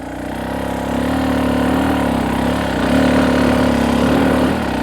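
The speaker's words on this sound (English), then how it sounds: "I'm not using the brakes, I'm just using the engine and the clutch to hold the bike in the place." Dirt bike engine on an enduro trail, held steady on the clutch without brakes, holding a loud, continuous mid-pitched idle-to-low-rev drone for about five seconds with slight rev swells, close up and alone.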